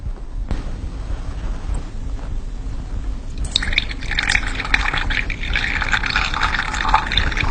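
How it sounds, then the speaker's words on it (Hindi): A stone dropped into a full glass of water, followed by the sound of water spilling and trickling over the rim, a steady liquid rush and drip close to the microphone with no talking. "अब मैं ये पत्थर इस पानी में डालूंगी"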